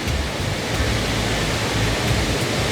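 Bomburu Ella waterfall in Sri Lanka roars in a loud, steady broadband rush of falling water, continuous and close with no breaks or voices.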